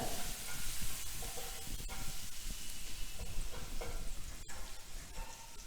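Soaked moong dal frying with onion, hing and turmeric in a pan, a loud steady sizzle with scraping stirring strokes and a sharp clack partway through, no voices.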